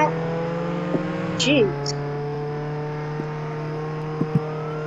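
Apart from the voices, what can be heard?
car driving in video game Roblox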